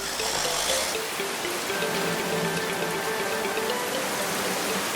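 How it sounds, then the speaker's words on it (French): Steady rain patters and splashes in a children's cartoon, a continuous, moderately soft hiss of falling drops with no voices. "La pluie ne semble pas vouloir s'arrêter."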